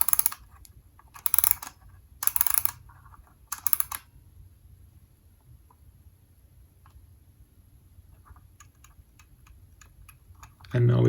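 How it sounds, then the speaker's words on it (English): A mechanical hand clock is wound in a few short bursts of rapid ratcheting clicks, then goes quiet, and faint, sparse ticking follows before a louder thump at the end. "So, let's wind it up."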